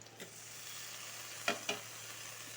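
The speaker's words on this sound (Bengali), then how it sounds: "ভাজা হয়ে গেছে আর একটু ভাজা হবে সাথে এখন আলুটা দিয়ে দিব" Pointed gourd frying in a pan, with potato about to be added, gives a faint, steady sizzle; two short scraping stirs rise clearly near the end, with a softer one early on.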